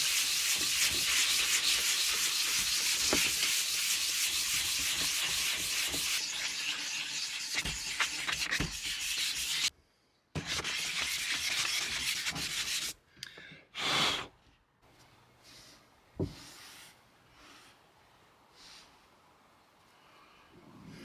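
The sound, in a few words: hand sanding a sailboat part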